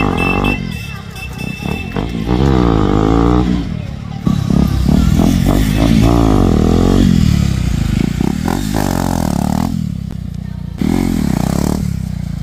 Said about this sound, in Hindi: भैया मार रहे हैं व्हीली